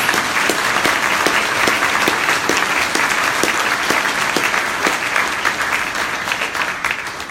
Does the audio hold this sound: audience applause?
yes